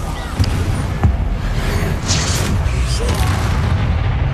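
A Bombarda blast spell goes off in Hogwarts Legacy, a deep booming burst with rumbling tail under a voice and game dialogue, with a couple of sharp hits early on.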